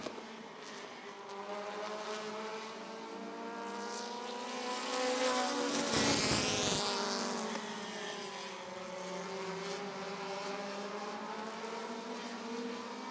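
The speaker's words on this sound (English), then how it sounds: "American short tracker heat race." Race cars in an American Short Tracker heat race at Rockford Speedway roar past, a loud pack swelling to a peak as they pass close and then droning on with a sustained engine whine around the short oval.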